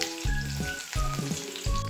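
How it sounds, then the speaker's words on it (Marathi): Onions sautéing in hot oil in a kadhai while making dhaba-style whole masoor give a continuous close sizzle for the full stretch, with steady tonal sounds running beneath it. "तेल गरम झालं की त्याच्यामध्ये सगळ्यात पहिले कांदा घालायचा आणि कांद्याला थोडंसं परतून घ्यायचंय"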